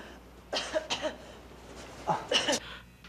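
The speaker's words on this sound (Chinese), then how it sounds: "人老了就是会咳嗽" An elderly woman coughs in two separate bursts, each a quick run of hoarse, close hacks with a quiet pause between them.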